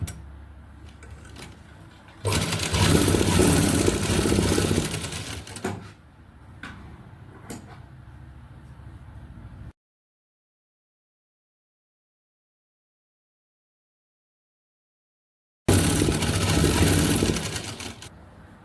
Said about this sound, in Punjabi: ਇਹਨਾਂ ਚਾਰਾਂ ਨੂੰ ਵੀ ਹੁਣ ਆਪਾਂ ਇਕੱਠੀ ਸਿਲਾਈ ਲਗਾ ਲੈਣੀ ਆ